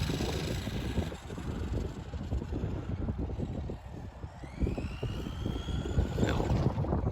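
A restored 1985 Marui Galaxy RS RC buggy with an electric motor and nickel-metal hydride battery whirs along at a modest pace, its buzzing drone rising and falling as it passes, with a rising whine near the end under wind noise.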